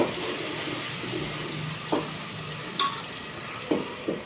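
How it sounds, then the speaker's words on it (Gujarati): Chilies sizzle in hot oil for tempering while a Punjabi paneer dish is cooked, a soft steady frying hiss broken by a few sharp clinks and stirring knocks. "આ અત્યારે મરચાં તો નાખી દીધા છે વઘાર માટે"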